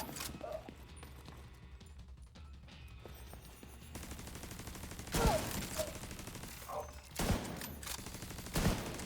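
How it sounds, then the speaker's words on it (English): An automated turret firing inside a video game, with several sharp, loud bursts of shots spaced a couple of seconds apart over a busy, crackling background of game noise. "That's because my turret is also just shooting the chest."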